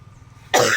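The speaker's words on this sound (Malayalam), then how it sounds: "ചുമയുണ്ട് കേട്ടോ." A single sharp cough bursts out loud and close after a stretch of quiet background hum, a shopkeeper coughing while tending a small shop.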